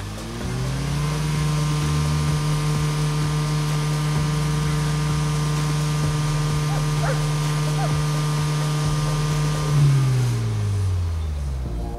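Car engine with a modified exhaust revved while parked against a 4,500 RPM rev limiter: a loud droning note climbs, holds steady at high revs for several seconds, then drops away, with no talking.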